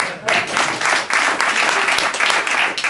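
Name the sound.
audience applause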